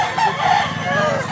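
A two-year-old rooster, a quality fighting-cock line offered for sale in Mantalungon, Cebu, crows loudly and close up in one sustained call, with a faint voice in the background.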